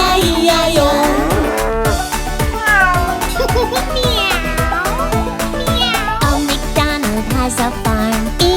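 Cartoon cat meows in an Old MacDonald farm nursery rhyme, sung by voices imitating the cat over bouncy, busy children's music that plays throughout.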